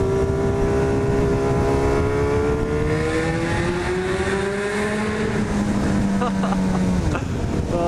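A motorcycle ride with steady wind roar and an engine droning underneath, its pitch rising and falling smoothly as the bike accelerates and shifts, loud and close throughout.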